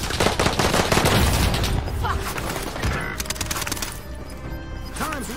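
Rapid automatic gunfire bursts from a Rebirth battle royale match rattle loudly and near throughout, with sharp shot cracks over players talking.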